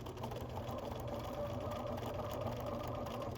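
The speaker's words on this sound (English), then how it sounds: "come on over to the sewing machine" Steady mechanical whir of a sewing machine running continuously, close and even, with no voices.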